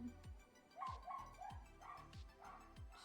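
A dog barking indoors, a run of about six short, quick barks with small yips, faint and somewhat distant, with no talk over it.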